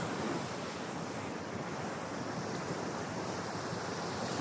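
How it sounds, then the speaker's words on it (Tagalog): Strong ocean waves surge and crash continuously on a beach at San Felipe, Zambales, at six in the morning in rain, a loud, steady roar of surf with wind buffeting the microphone and no talking. "Ang lakas ng alon"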